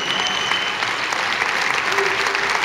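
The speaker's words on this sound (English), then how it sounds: "Give them all a big round of applause." Audience at a bodybuilding results announcement for the 202 class at the British Grand Prix breaks into loud, sustained applause, a dense continuous clatter of many hands with some crowd noise mixed in.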